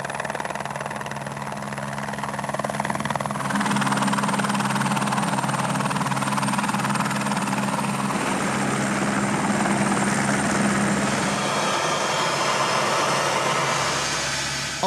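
A non-medical evacuation helicopter's rotor and engine drone steadily and loudly throughout, a continuous low thumping hum that stays close and fairly constant in level.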